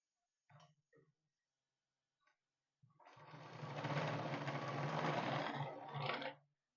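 A sewing machine runs steadily for about three and a half seconds, stitching back and forth over the elastic ends of a pyjama waistband to secure them, after a few short clicks and handling sounds.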